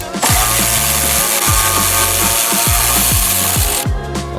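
Pneumatic or power ratchet spinning off 16 mm bolts on an Audi S4 sway bar, a loud continuous whirring buzz broken by repeated sharp pulsing bursts and clicks, close up with no talk, ending with a brief higher-pitched hiss.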